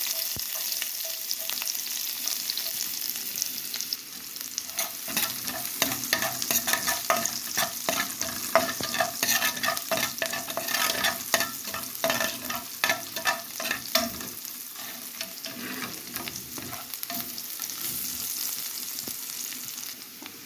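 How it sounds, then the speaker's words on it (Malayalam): Ginger and garlic sautéing in hot oil left from frying chicken, a continuous crackling sizzle with constant stirring and scraping throughout, fairly loud and close with no talking. "ആ എണ്ണയിൽ തന്നെ ഇഞ്ചിയും വെളുത്തുള്ളിയും ഇട്ട് ഒന്ന് വഴറ്റിയിടുക."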